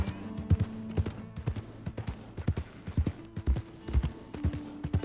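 Horse hooves clip-clop in the video game Red Dead Redemption 2. Clear, steady hoofbeats at a walking pace ring out close and prominent over a faint tonal background.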